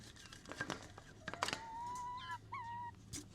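Soft rustling and crinkling come with a few short, nasal, honk-like bird calls nearby, one drawn out and two clipped.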